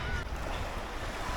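Brief, steady rush of sea waves on a sandy Sardinian beach, with broad wash and wind noise and no talking.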